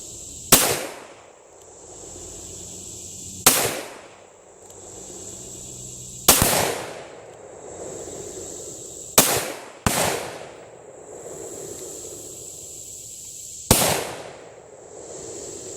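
A .38 Special pistol loaded with shotgun powder and 161-grain lead round flat nose bullets fires six sharp, loud shots at uneven intervals of roughly three seconds, each with a brief ringing decay in an open outdoor setting.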